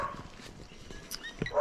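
Dogs bark on a tropical agroforestry farm: several short, moderately distant barks and yips, irregular and fairly faint, rising a little toward the end.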